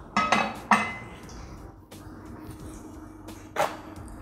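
Fork taps and clinks against a pan while flipping potato burgers frying in oil, a few sharp metallic hits spaced apart over a low background sizzle.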